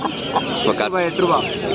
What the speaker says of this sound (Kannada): ಶಾರ್ಟ್ ಬಿಕ್ ಲಾಂಗ್ ಟೈಲ್ ಒಂದು ಕೋಳಿ ಇದೆ ನೋಡೋಣ ಬನ್ನಿ